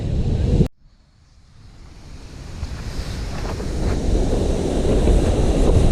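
Water from the roughly 150-foot Kaiyoda waterfall in Keonjhar pours down in a continuous broadband rush, dropping out briefly at the start and then building steadily louder and closer.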